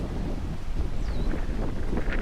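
Steady wind gusts over a hilltop viewpoint with an ocean view on a hike, rumbling continuously against the microphone, with a faint high bird-like whistle briefly passing through.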